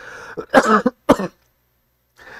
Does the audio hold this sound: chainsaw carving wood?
no